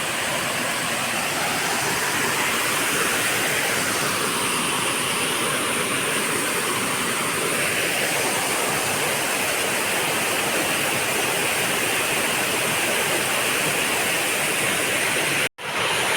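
A waterfall on the Konkan coast, a loud, unbroken roar of rushing water filling the whole stretch without pause.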